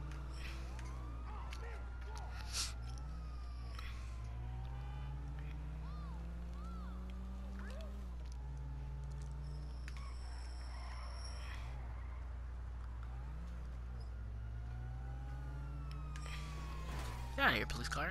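Police sirens in Grand Theft Auto V wail and warble steadily throughout, rising and falling over a constant low engine drone, with a brief clatter near the end.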